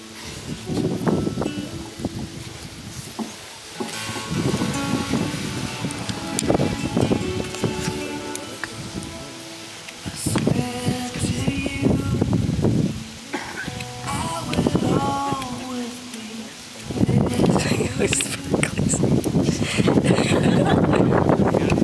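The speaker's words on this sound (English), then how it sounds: "It's too windy." Strong wind buffets and rumbles across the microphone in loud gusts at an outdoor wedding ceremony, with faint voices underneath.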